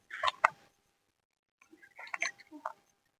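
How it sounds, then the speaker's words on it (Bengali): Bird chicks call from a nest in a small guava tree in a garden, giving two short bursts of faint, chattering chirps separated by a pause of silence. "পাখির বাচ্চাও আছে, যেটা আওয়াজ করছে।"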